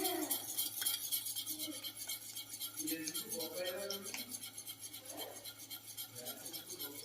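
Powdered sugar being beaten into plum cake batter with a beater in a bowl, making faint, continuous scraping and stirring strokes in a quiet kitchen.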